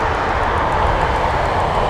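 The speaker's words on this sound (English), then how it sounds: "Oh, engines are starting up. I'm definitely hearing GE90s now." Airliner's GE90 jet engines spooling up at Anchorage airport, a loud, steady broadband roar that holds evenly throughout with no talk over it.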